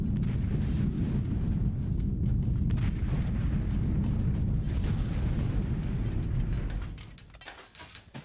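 Heavy rumbling explosions from bombs hitting a target in a B-17 Mighty 8th flight game, a sustained loud roar of blasts and engine drone that drops away near the end.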